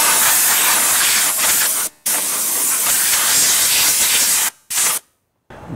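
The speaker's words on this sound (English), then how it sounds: "I could just use this air compressor right here, clean this out, make sure it's completely dusted" Air compressor nozzle blasting dust out of a Dell Inspiron 570 desktop computer, a loud continuous hiss in long bursts with brief pauses between them.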